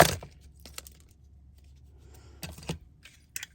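Scissors cut through the end of a craft ribbon for a flag or fishtail finish: a few crisp, close snips, one early, a pair near the middle and one at the end, with quiet pauses between and no talking.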